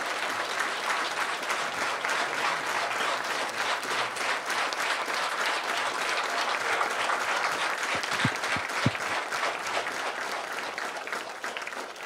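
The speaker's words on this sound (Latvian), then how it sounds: "Lūdzu aplausi, jā, droši." Sustained audience applause fills the room at a talk on freedom of speech, dense and steady clapping throughout, with a few sharper claps near the end.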